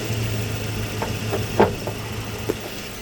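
A 2003 Toyota Tacoma's 2.7-liter four-cylinder engine idles steadily at moderate volume under the open hood, with a few light clicks and knocks over the hum and no speech.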